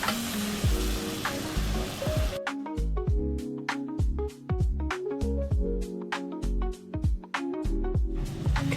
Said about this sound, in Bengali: মশলাটা ভাজা হচ্ছে প্রায়